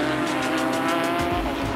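Porsche GT3 Cup race car cornering hard at speed on a bumpy track, its engine roaring loud and steady while the tires squeal continuously through the corner.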